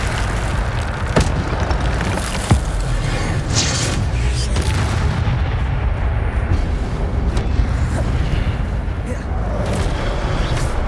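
Incendio fire spells cast in Hogwarts Legacy, a steady roar of booming, crackling bursts with several sharp hits spaced through the stretch, dense and loud throughout.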